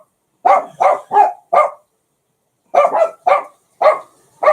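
Dogs playing with each other let out loud, close barks in two rapid groups of four, separated by a brief quiet gap, with no talking over them.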